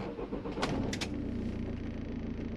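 A car engine cranks with a couple of short bursts, then settles into a steady low idle nearby.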